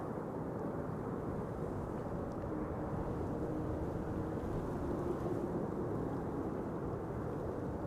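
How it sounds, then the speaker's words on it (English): A LOT Embraer 175 airliner arriving from Warsaw at Amsterdam Schiphol, its distant jet engines giving a steady, broad low roar that stays even throughout without any talk. "LOT flight 265 arriving from Warsaw, Embraer 175."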